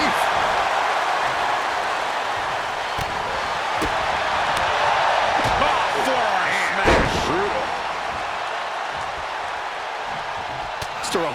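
Heavy slam impacts from a wrestling match in WWE 2K25, sharp thuds landing over a steady arena crowd roar while a commentator talks throughout.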